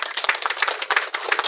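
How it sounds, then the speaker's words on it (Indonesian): Applause for the ministry at a groundbreaking ceremony in Nusa Tenggara Timur, a brief burst of close, loud hand clapping from a crowd, rapid and uneven. "Tepuk tangan dulu untuk Kementerian"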